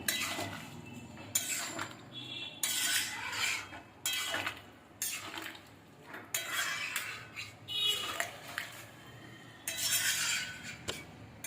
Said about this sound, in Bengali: ভালো করে এরপর তরকারিটা নাড়বো